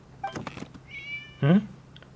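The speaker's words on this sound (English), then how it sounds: "It was just a cat." A cat in the video game Genshin Impact gives a few short, close meows, with small chirping calls between them and one louder, drawn-out meow near the end.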